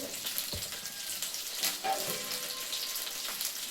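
Fish curry simmering in a pan gives a steady, close bubbling sizzle with soft crackles throughout, no voices over it.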